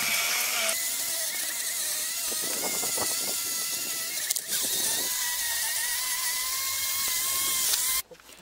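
Steady high-pitched whine of a drill spinning an 800-grit sanding disc against a car headlight lens during Michelin Expert headlight restoration, continuous and close, cutting off abruptly near the end.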